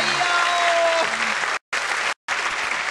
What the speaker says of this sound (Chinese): 来，掌声鼓励鼓励一下。